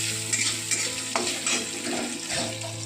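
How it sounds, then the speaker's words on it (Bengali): Grated coconut fries in hot oil in a pan, giving a steady close sizzle broken by light scrapes and knocks of a stirring spoon, with no voices. "তেল গরম হয়ে গেছে আমি নারকেলটা একটু ভেজে নিচ্ছি"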